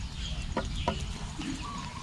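Free-range village chickens cluck in a few short, sharp calls against steady outdoor background noise, fairly close by, with no talk.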